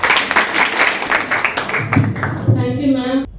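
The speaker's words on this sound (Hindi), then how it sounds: "जोरदार ताली।" Loud applause and clapping from an audience at a college International Women's Day function, a dense wash of hands that carries on for several seconds with some crowd noise and a brief voice near the end.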